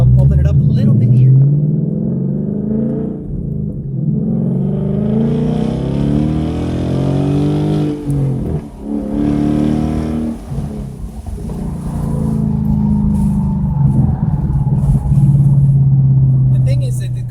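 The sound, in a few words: 2015 Ford Mustang engine revving while driving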